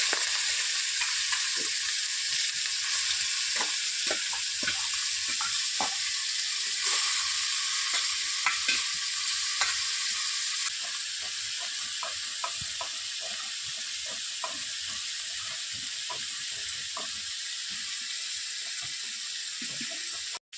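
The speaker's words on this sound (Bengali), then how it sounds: "এই যে ইঁচড়টা ভাজা ভাজা হয়ে গেছে" Green jackfruit and prawns frying in a pan, a loud continuous hiss of sizzling oil close by, broken by repeated scraping taps of a spatula throughout.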